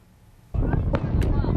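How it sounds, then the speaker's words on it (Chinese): Fireworks over a harbour, heard from the sea, crackle and pop in several sharp bursts over a steady rumble, loud and close, after a quiet start. "离港湾边放烟火，美丽又搁灿烂"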